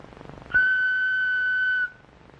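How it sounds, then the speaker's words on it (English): One steady, piercing whistle blast sounds for over a second, clean and constant in pitch, cutting in sharply and stopping abruptly, with a quiet murmur before it in a 1956 sci-fi TV drama. "When you hear me blow on this whistle,"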